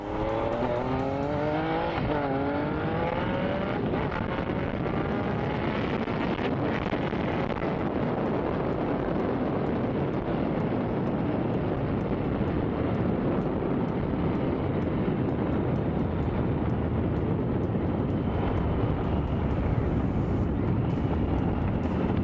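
Triumph Street Triple 675 motorcycle engine revving loud and close for over twenty seconds, with rising and falling pitch sweeps as it shifts down through the gears, under steady wind rush.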